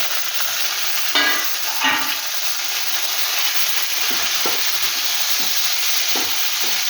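Taro stolons and two green chillies fry steadily in a pan with a continuous close sizzle and hiss, broken by a few stirring scrapes and clicks, with no talking.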